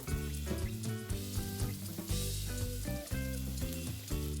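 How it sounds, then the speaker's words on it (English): Garlic pieces sizzle and are stirred in hot oil in a pan, a soft, continuous crackle heard under prominent background music, with no talking. "Add the garlic pieces and stir."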